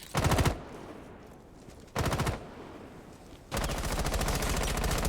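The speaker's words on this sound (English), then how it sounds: "Terra's just been shredding on this Ash, along with Swill on the Cali, but Smoke manages to trade back the frag" Rapid automatic gunfire from a Rainbow Six Siege match comes in three loud bursts. The first is short, the second sustained, and the last runs to the end, with quieter game ambience between them.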